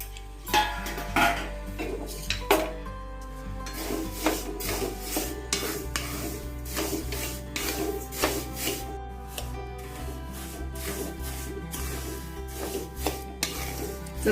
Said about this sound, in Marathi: भाजणी करण्यासाठी सगळ्यात पहिले आपण तांदूळ भाजून घेऊया